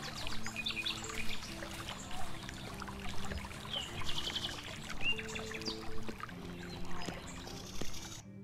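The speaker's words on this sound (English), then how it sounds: "The sound of the watermill is also here." Watermill beside a flowing river in a medieval RPG town: steady pouring, trickling water runs throughout at moderate level, with birds chirping and tweeting over it and faint ambient game music underneath.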